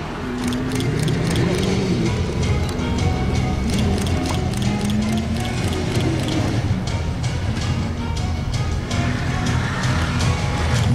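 Swiss SAND-X T-ATV 1200 military all-terrain vehicle at a defence show, its engine running steadily among repeated mechanical clicking and rattling, with background chatter and a French-speaking voice over it.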